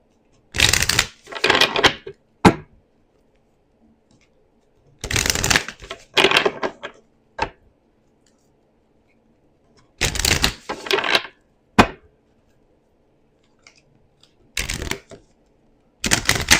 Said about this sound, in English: We'll pull a couple oracle cards for you and then we're done.